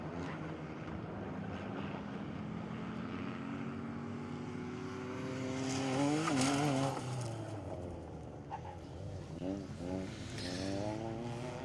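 A rally car at the Lee Holland Memorial Rally drives through a stage and flies a jump, its engine droning and revving through strong wind noise, mid-distance, with an announcer's voice over it.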